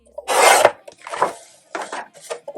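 Silver cardstock cut with a paper trimmer: a few close, rasping scrapes in uneven strokes, the first and longest one loud, then shorter, fainter passes.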